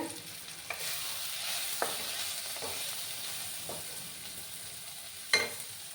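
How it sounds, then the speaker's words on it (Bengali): Spice masala with Kashmiri chilli powder fries and sizzles in a pan with a little added water while being stirred for a Sylheti broad-bean curry. The steady close hiss is broken by occasional scrapes and a sharper clack near the end. "সামান্য একটু জল আমি দিলাম, যাতে করে মশলাটা পুড়ে না যায়"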